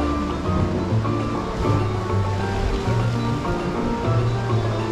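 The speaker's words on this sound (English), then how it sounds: "That's the wave crashes, there's a little hole there." Seafront waves crashing against rocks with a small hole and hollow underneath at Torrevieja, a loud continuous churning wash with deep surging booms, up close.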